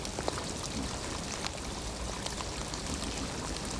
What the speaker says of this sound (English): it's bouncing down this rain